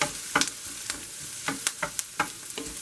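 Onions sautéing and caramelizing in a pan sizzle softly and steadily, with sharp crackles and stirring scrapes recurring every fraction of a second, close up and with no talk.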